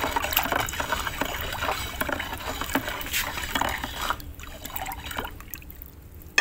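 Liquid fertilizer solution for potted grapevines is stirred in a container, a close, continuous watery swishing with small splashes and knocks that settles near the end.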